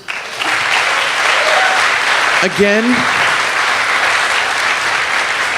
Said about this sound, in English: Let's give a round of applause to our judges, please.